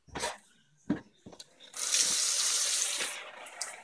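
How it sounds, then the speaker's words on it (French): Two litres of water pour from a kitchen tap, a loud splashing gush lasting about a second after a few short knocks and clatters. "On va rajouter les 2 litres d'eau."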